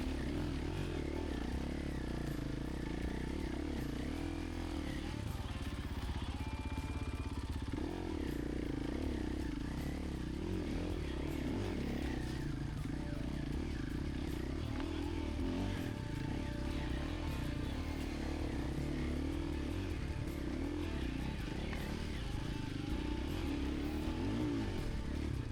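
A Husqvarna dual sport motorcycle climbing a hill in West Virginia, its engine droning steadily and revving unevenly with rattling and clatter throughout, heard close and constant for the whole stretch.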